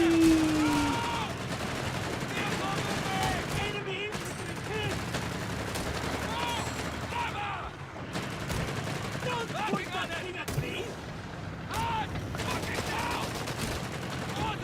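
Video game gunfire in a shooter, repeated bursts of shots spread through the clip over steady game noise, with someone talking at times.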